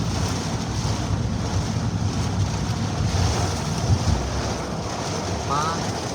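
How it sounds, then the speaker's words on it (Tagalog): Heavy rain pours steadily outdoors as a dense, continuous broadband hiss with a low rumble, unbroken throughout and loud, with no talking. "Ang lakas po ng ulan."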